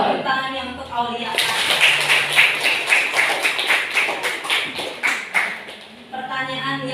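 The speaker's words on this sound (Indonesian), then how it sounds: "Ya, tepuk tangan yang untuk Aulia." Classroom of students clapping for a classmate in an Indonesian language lesson, a short burst of brisk, fairly close applause between stretches of a teacher's voice.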